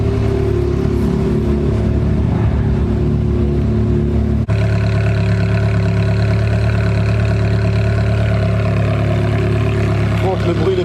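A Ferrari 430 with an aftermarket exhaust idles nearby, a deep, steady burbling rumble that holds throughout with a slight shift in tone midway, at a supercar meet.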